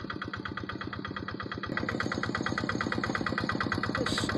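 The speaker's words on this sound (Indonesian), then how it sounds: "Suara adem inilah ciri khas dari mesin Kubota." A Kubota diesel engine on a Quick tractor runs at a steady idle, its rapid even knocking pulses close and continuous and growing slightly louder midway.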